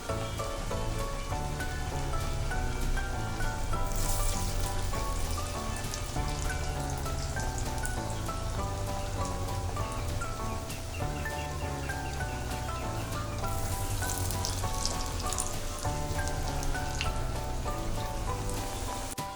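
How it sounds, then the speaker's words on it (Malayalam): Green pea vada fries in oil over a medium flame, giving off a dense, even, rain-like crackle and sizzle that holds steady from start to finish, close and without any voices. "മീഡിയം ഫ്ലെയിമിൽ ഇട്ടിട്ട് ഇത് പൊരിച്ചെടുക്കാം"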